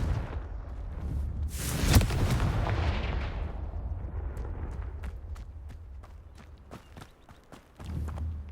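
A Confringo fire spell erupts in the Hogwarts Legacy video game as a loud, sudden blast with a long roaring tail, followed by scattered sharp crackles and thumps.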